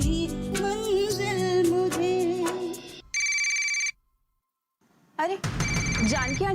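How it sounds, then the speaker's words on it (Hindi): A telephone rings in a Hindi TV drama scene, a single bright electronic ring burst that stops for a moment of silence, following and preceded by people speaking. "दोबारा से फोन आ रहा है।"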